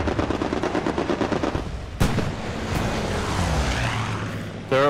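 Rapid automatic gunfire in a team shooter video game, loud repeated bursts with a sharp crack midway and further shots, close and dense, with faint engine drone in the background.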